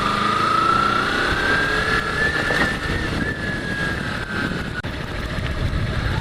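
A 2008 or later Kawasaki Ninja 250R rides in second gear, its engine holding a steady close hum with a slowly rising, then easing whine under wind noise.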